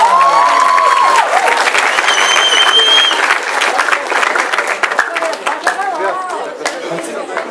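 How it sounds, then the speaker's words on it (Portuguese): Audience at an anime cosplay contest breaks into loud sustained applause, clapping steadily with crowd chatter and voices mixed in, slowly easing off. "palmas!"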